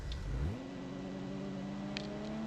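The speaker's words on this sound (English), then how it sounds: "you can drive the car" A car engine in the video game Garry's Mod revs up from a low rumble into a steady, rising whine that holds close and loud, with no talking.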